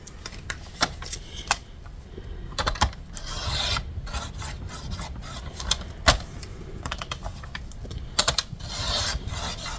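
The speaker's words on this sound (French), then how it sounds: "je viens juste limer un petit peu de chaque côté" A file rasps back and forth along the edges of a scrapbooking page, close and dry, in short uneven strokes with small taps between them, with no one speaking.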